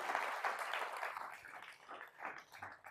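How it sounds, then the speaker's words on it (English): Conference audience applause at a mortgage broker event, a crowd clapping in uneven swells that rise and dip over a few seconds with no voices over it. "Round of applause to Vinny and his team, by the way."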